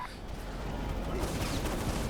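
Dense, continuous gunfire in the video game Prototype crackles and rattles steadily throughout, loud and busy, with no clear pauses between shots.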